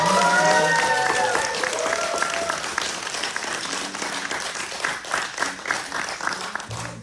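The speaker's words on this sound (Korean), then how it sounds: "노래하는 저 친구들 박수 한번 부탁드리겠습니다" A brief sung ending of an Arirang performance at a Mongolian folk show in a Terelj camp gives way to a crowd's warm, steady applause that slowly thins out.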